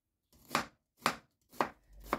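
A knife cutting an onion into half rings on a board: four crisp, evenly spaced chops about half a second apart, close and clear against silence.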